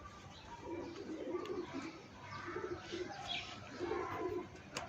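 An older Kasuri red-eyed pigeon coos in low, repeated throaty phrases, close by, with faint chirps and background noise in between.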